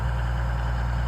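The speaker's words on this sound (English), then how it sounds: "Just firing up the tractor" Farm tractor engine idling while it warms up before field work, a steady low diesel rumble close by with no voices.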